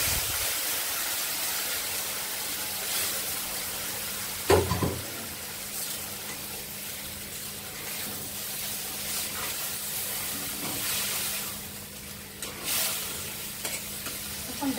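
Vegetable stalks tossed into a pan of browned onions, giving a steady, close sizzle and hiss with occasional stirring scrapes and clatter, no voices.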